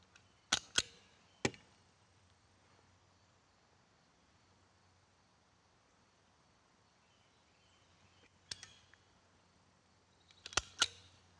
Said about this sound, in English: Pinch it together and staple along this edge.